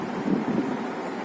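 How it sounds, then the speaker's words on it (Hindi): Steady outdoor wind rushes and buffets against the microphone at midday under overcast skies, a continuous broadband blowing with slight gusts and no voices. "मौसम अच्छा है, हवा चल रही है।"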